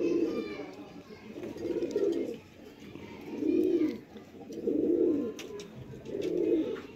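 Cross-bred pigeons coo close by in a slow series of five soft, rolling coos, each lasting about a second, with faint chirps and light background noise between them.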